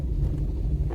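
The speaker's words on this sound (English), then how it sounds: "So we are up on a hill guys, so it's quite windy" Wind buffets the microphone on a hilltop in rural St Elizabeth, Jamaica, a steady low rumbling roar with no other sound over it.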